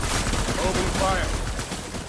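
Sustained bursts of gunfire from the Death Stranding video game, a dense continuous barrage with no clear gaps, with a voice faintly present underneath.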